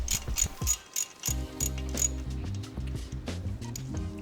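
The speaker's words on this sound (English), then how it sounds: "Now we're just gonna slightly tighten these couple of Allen's bolts here" An Allen key works bolts snug on a Harley-Davidson rocker box, giving close, crisp ratcheting clicks in quick irregular bursts over a low mechanical rattle, with no talking.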